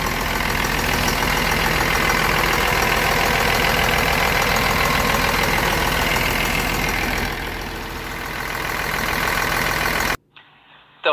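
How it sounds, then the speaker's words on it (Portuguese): A 2001 Mercedes-Benz 1718A 4x4 truck with a 366 diesel engine idles close by in a steady, loud, knocking clatter that dips briefly before cutting off abruptly near the end. "Então, esse caminhão é 1718,"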